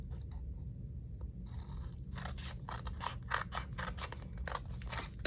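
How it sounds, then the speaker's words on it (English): Scissors snip through paper in a quick series of crisp cuts close by, with faint rustling of the paper between snips and no talking. "No, I should use my larger scissors instead of using the smaller one"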